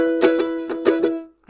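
A ukulele chord strummed several times with the strings pressed down hard, a few bright ringing strokes in quick succession before the sound cuts off.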